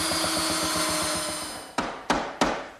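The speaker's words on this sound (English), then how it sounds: "My belt sander does a good job removing any of the excess dowel." A belt sander grinds down excess wooden dowel with a brief, rhythmic whirring hum. It is followed by three sharp, close knocks on wood.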